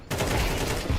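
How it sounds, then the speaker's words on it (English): A dense burst of rapid rifle gunfire from Counter-Strike, loud and continuous with sharp overlapping shots firing into smoke, no talking over it. "I'm shooting into the smoke"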